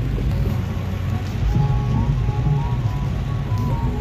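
Heavy rain pours in a dense, continuous roar with a steady low rumble, loud and close throughout with no voices.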